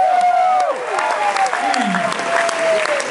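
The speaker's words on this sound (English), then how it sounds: "Come on, give me some, come on, round of applause." Audience applause for a comedian at a stand-up show, a steady loud wash of clapping with some crowd noise and a voice speaking over it.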